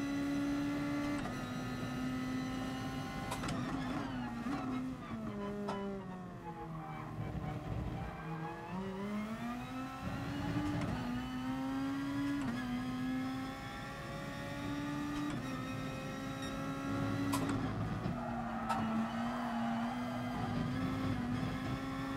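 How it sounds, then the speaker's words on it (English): A race car engine in GT Sport revs hard and continuously, its pitch repeatedly falling and rising through corners and gear changes, loud and close with some tire squeal and no speech. "Might rev it a bit more, this, to try and use a bit more fuel up"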